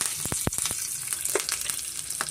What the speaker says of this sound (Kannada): ಎಣ್ಣೆ ಕಾದಿದೆ ಇದಕ್ಕೆ ನಾನು ಸಾಸಿವೆ ಜೀರಿಗೆ ಮತ್ತು ಕಡಲೆಬೇಳೆ ಸೇರಿಸ್ಕೊತಾ ಇದ್ದೀನಿ